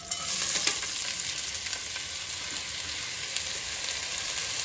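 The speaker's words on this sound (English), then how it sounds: "So now I'm gonna just saute this so everything's kind of mixed together and coated with the sesame oil" Aromatics sauteing in sesame oil in a pan while being stirred, a steady close sizzle with occasional clicks of a utensil against the pan, no talking.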